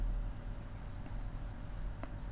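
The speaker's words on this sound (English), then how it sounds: "Let us write them." Chalk or pen writing on a board, a steady run of short scratchy strokes in a quick uneven rhythm, close and quiet with no talk.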